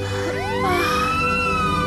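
An ambulance siren wails loudly and continuously, its rising and sweeping tones filling the scene over a steady background rumble.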